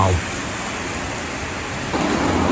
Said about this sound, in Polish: Osada w deszczu.